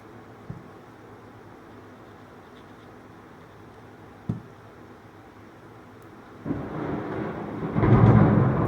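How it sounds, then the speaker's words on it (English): Rain outside begins as a soft steady hiss, broken by two faint thumps of thunder, then swells into a louder, heavier downpour toward the end. "It's raining outside."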